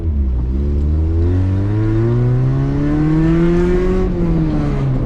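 Honda Integra engine, freshly repaired after jumping timing, revving loudly up close, a deep engine note climbing steadily in pitch over several seconds before easing off briefly.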